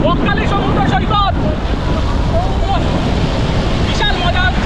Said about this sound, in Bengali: দারুণ ঢেউ, অসাধারণ ঢেউ এখানে